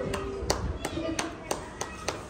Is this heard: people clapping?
yes